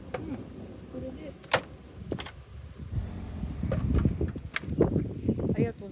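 A charging connector is pulled from a Honda N-VAN e: electric car and the port lid is shut, giving a few sharp plastic clicks and thuds amid outdoor rumble, with people talking throughout.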